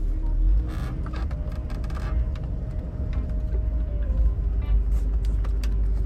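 A Range Rover Vogue SE pulls off and drives, heard from inside as a steady, close, low engine and road rumble with faint mechanical clicks over it.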